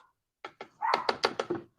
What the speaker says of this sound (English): if you guys hear barking, that's our little puppy Zeus